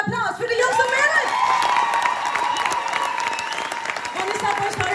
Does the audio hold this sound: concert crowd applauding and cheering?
yes